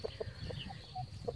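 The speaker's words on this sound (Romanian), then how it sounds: "Aici sunt găinușele." Brahma hens give a few soft, short clucks nearby over a low background rumble, faint and brief with no talking.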